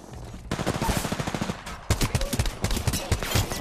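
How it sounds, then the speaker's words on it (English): Rapid automatic gunfire in Apex Legends, dense loud bursts of shots in quick succession, a pause, then another sustained volley, close and dominant. "Where's he shooting from?"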